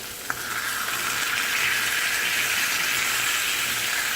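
Orange-glazed pork chops sizzling on a grill, a steady loud hiss and crackle that swells slightly and holds throughout, with a brief tap near the start and no talking.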